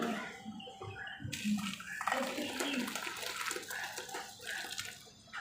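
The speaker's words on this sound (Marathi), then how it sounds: "अशा पद्धतीने पूर्ण पाणी नितळून घ्यायचं आहे" Water pours and splashes through a kitchen sieve nearby, draining from a wheat-flour dish, a gushing flow that rises and falls unevenly before tapering off.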